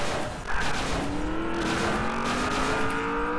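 A car drifts in a racing video game, its engine roaring steadily while a long, rising tire squeal stretches across the slide, loud and continuous.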